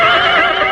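A horse neighs loudly and close in an Indonesian martial-arts audio drama, a single sustained whinny filling the short moment with no voices over it.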